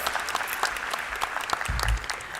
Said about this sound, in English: that, colleagues, deserves a round of applause